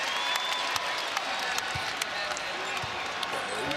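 A basketball crowd roars at McHale Center in Tucson during a college game, a steady dense wash of cheering and clapping with occasional sharper shouts, a commentator's voice faintly underneath.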